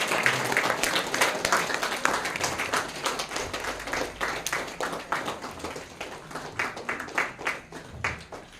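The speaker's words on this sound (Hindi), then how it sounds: "तब तक तालियां बजती रही।" An audience at a Women's Day and Mahashivratri celebration claps continuously, with dense, uneven applause that swells and thins slightly while guests are welcomed on stage.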